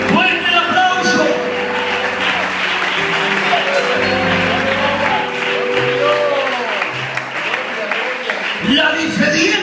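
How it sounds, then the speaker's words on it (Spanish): Applause from a church congregation during a Spanish-language sermon, steady and full across the whole stretch, mixed with voices and shouting over it. "¡Fuerte el aplauso!"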